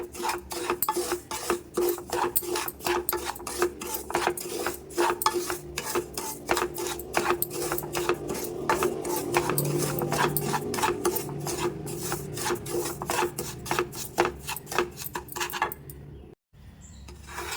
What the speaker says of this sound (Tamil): இதையும் இந்த நெய்யிலே நல்லா வறுத்து எடுத்துக்கலாம்